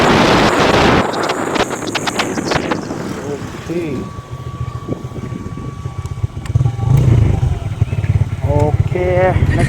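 A Bajaj Freedom motorcycle runs while being ridden, its engine drone buffeted by heavy wind rumble at the microphone, with someone talking over parts of it.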